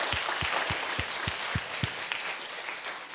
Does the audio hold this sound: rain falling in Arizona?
no